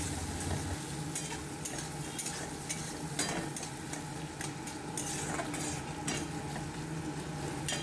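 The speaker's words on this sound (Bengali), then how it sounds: "প্রথমেই কড়াইতে তেল দিয়ে দিলাম জিরে ফোড়ন, তারপরে পেঁয়াজগুলো একটু হালকা লাল লাল করে ভেজে নিলাম" Onions sizzle with cumin seeds in hot oil in a wok, a steady crackling fry broken by repeated scraping and clinking of a spatula as the pan is stirred, with no voices.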